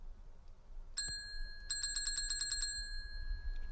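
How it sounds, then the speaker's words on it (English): In the video game Blood Wash, a service bell on a shop's front counter rings with one bright ding, followed after a short pause by a quick burst of about seven rapid rings, each clear and close, over a quiet background. "Someone ring the bell at the front of the counter"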